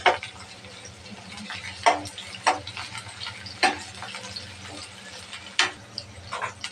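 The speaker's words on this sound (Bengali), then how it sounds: "পেঁয়াজটা ভালোভাবে ভেজে নেব।" Chopped onion and green chili frying in mustard oil for a dried loitta fish bhuna, with a low steady sizzle broken by sharp stirring scrapes and clicks every second or so.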